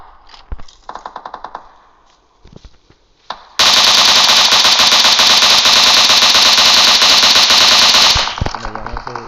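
Loud, sustained automatic gunfire rattles for several seconds in the PUBG Mobile battle royale game on the Livik map, preceded by shorter bursts of rapid shots.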